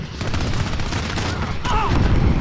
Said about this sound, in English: They're shooting my Vito already.